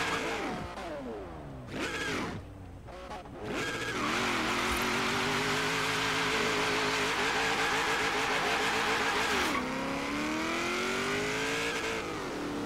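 A 1956 Ford F100's engine in the video game Forza Horizon 3 drones steadily and climbs in pitch as it accelerates, with shifting revs and a gear change partway through, loud and continuous.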